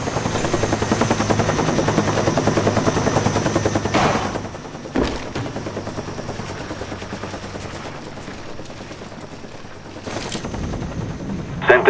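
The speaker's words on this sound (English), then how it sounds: "Friendly spy plane inbound." A spy plane drones overhead on the Firing Range map in Call of Duty Black Ops, a steady rotor-like engine hum broken by a few sharp bursts of gunfire.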